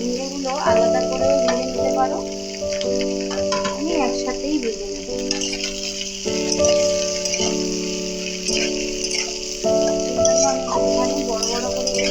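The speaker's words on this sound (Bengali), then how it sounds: "মশলাটাও সুন্দরভাবে আমার ভাজা ভাজা হচ্ছে" Spices fry in mustard oil with a steady sizzle and crackle, under sustained tonal music playing throughout.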